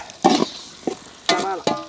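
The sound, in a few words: onions added to frying shallots and curry leaves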